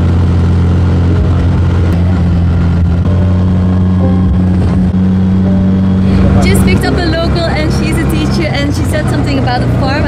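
A tuk-tuk with a tampered engine drones loudly and steadily at close range, rising into a revving surge near the end, while people talk over it throughout.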